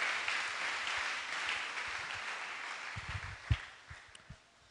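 A church congregation applauding the Lord, dense sustained clapping from a large room of people that tapers off with a few final heavier claps.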